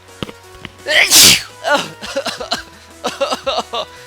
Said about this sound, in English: I gotta sneeze. Oh, I gotta sneeze.